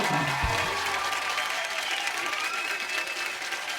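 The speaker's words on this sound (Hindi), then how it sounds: "सनी के लिए जोरदार तालियां हो जाए।" Studio audience applause for actress Sunny Leone on a comedy talk show, a steady, full roar of clapping from a large crowd that holds evenly throughout.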